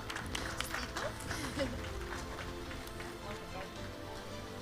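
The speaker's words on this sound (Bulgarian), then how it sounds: "аплодисменти за Медицински център Афродита" Applause at a company-of-the-year awards ceremony for a medical center team, a faint, steady crowd clapping heard at a distance beneath a speaking voice.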